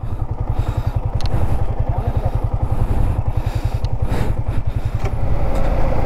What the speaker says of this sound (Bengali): আপনি বালুতে বাইক চালাতে গেলে চাকা স্পিড করবে, চাকা ফাঁসবে